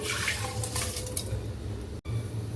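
Soaked rice and moong dal with water are poured into a pot for ven pongal, a steady wet splashing and trickling with a faint low hum underneath and no voices.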